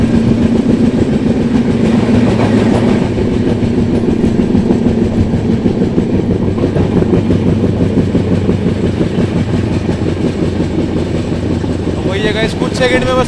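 The Uttar Sampark Kranti express from Delhi toward Katra rumbles along with a dense, constant roar and rhythmic rail clatter heard from on board, loud and steady as the train eases its speed.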